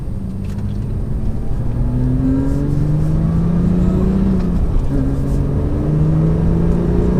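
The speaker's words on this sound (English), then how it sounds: "So I'm gonna do another quick acceleration, nothing too crazy." A 2018 Porsche 911 Carrera T accelerating moderately, its engine loud and close with rising revs through gear changes, each pull climbing then dropping before rising again.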